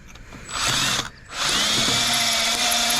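A close, loud power drill whines steadily as it bores grease out of a spindle bushing on an IH Hydro 84 tractor, briefly dropping off before spinning back up and running on.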